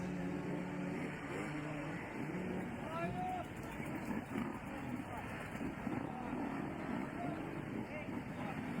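Motorcycle engines roar and rev continuously during burnouts at an enduro race prologue in an old city street beside the historic city wall, with crowd noise and voices mixed in throughout.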